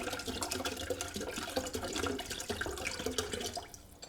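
About a liter of water pours steadily, close by, with a continuous splashing rush, used with citric acid for descaling a household water heater element. No talk is heard.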